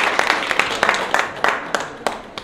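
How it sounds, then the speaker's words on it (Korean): Applause greets guests being introduced at the opening of a Yongsan artists' exhibition, a run of scattered hand claps of uneven rhythm that thin out toward the end. "네, 박수입니다"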